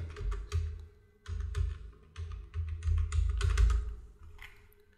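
Computer keyboard typing while filling in an online GST refund form: quick bursts of close, crisp key taps in uneven clusters, with short pauses between runs and no talk.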